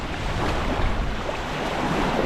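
Steady, broadband wind roaring outdoors at Mihailesti lake, a constant rushing wash with no pauses and no voices.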